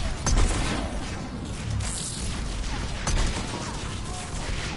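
Bombardment in the video game Mass Effect 3 rumbles as a dense, muffled barrage, with a couple of sharper blasts rising out of the steady low roar.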